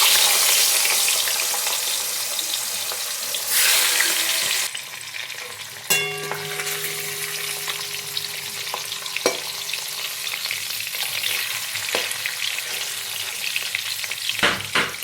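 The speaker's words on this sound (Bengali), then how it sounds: "মাছের মাথাগুলো আমি লাল করে ভেজে নেব" Rohu fish heads fry in hot oil in a wok with a loud, dense hiss and crackle that eases after a few seconds into steadier sizzling, with sharp spatters and a metallic clink partway through.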